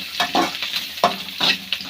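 Onions frying in oil in a pan for pasta, with a steady sizzle broken by several distinct stirring scrapes in an uneven rhythm, close and moderately loud, with no voices.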